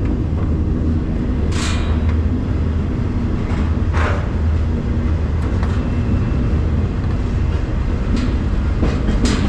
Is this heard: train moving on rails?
yes